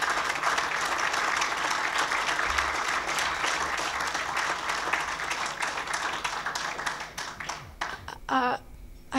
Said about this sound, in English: I would love to give you all a really big round of applause